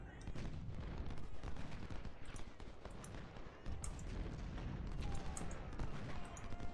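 Massed musket and cannon fire in the American Civil War strategy game Ultimate General: Civil War, a dense, continuous crackle of volleys with sharp reports throughout, layered over a low battlefield rumble, no clear talk on top.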